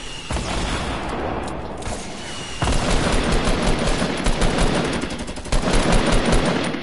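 Continuous automatic gunfire from a shooter video game, loud and dense with rapid overlapping bursts that intensify in waves across the stretch.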